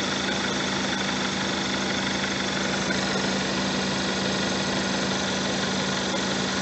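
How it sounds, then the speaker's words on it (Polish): A Volkswagen 1.4 TSI petrol engine idles quietly after its ribbed belt rollers have been replaced, giving a steady, even hum with a faint mechanical tick and no squeal, continuous throughout with no speech. "Silnik pracuje cicho."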